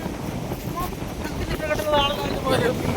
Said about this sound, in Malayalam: നമ്മളിപ്പോ എന്തൊരു കാറ്റ്